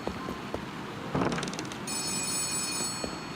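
A telephone rings in the game Letter Lost, a repeated electronic trill starting partway through and continuing steadily over a soft rain-like background hiss, with no talk.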